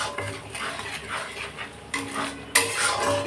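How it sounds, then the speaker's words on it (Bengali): Spice masala with turmeric, chili powder and salt being stirred and sautéed in a pan, a utensil scraping and clinking against the metal in steady strokes, with a couple of sharper knocks near the end. "লঙ্কা গুঁড়ো লবণ দিয়ে এটাকে সুন্দরভাবে এবার কষাতে হবে এই মশলাটাকে"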